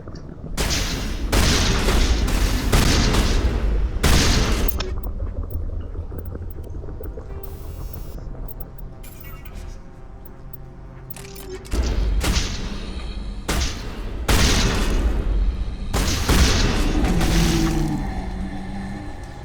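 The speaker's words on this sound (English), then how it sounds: "Most of those things actually did explode." Loud, repeated explosions boom through combat in Mass Effect on the Feros colony, heavy thuds and blasts clustered in bursts with brief lulls between them, no talking over the action.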